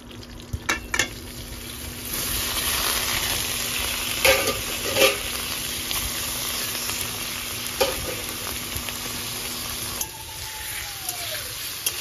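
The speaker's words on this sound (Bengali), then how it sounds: "বাটার দিয়ে পনিরটা ভাজলে পনিরটা অনেক সফট হবে, ওই জন্য গরম কড়াইতে দিয়ে দিলাম বাটার।" Paneer fries in butter in a hot kadai with a continuous sizzle, broken by sharp clinks and scrapes of a utensil stirring and turning the pieces.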